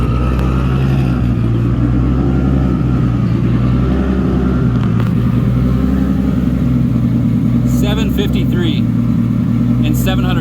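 A Formula D drift car engine revs hard on a dyno, a loud, continuous, close-up mechanical roar that holds steady, with a few sharp high-pitched bursts near the end.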